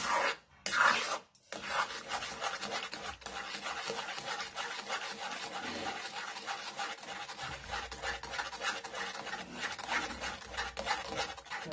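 A spoon scrapes and stirs a thickening Manchurian sauce in a pan after the gas is switched off, making a continuous rasping, rubbing sound with steady repeated strokes and no talk.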